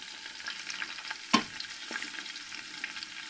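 Crushed red chili, salt and turmeric fry in hot oil in a home kitchen pot, a steady close sizzle with a sharp stirring clack midway.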